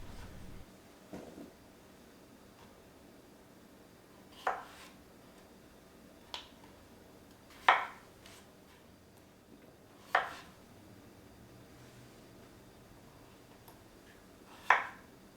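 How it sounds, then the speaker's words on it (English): A kitchen knife quarters peeled Idaho potatoes on a board for lefse, giving about six sharp, isolated chops spaced a second or two apart against a quiet background. "I chop up the potatoes into quarters."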